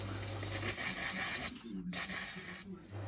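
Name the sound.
spraying brake cleaner aerosol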